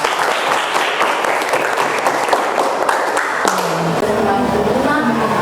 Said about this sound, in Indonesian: Aplaus dulu untuk Michael